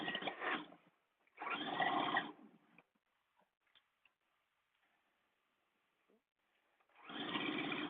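A sewing machine stitches a blouse seam in fast, even bursts of mechanical ticking, three runs separated by quieter pauses with faint handling clicks, close by and without talking.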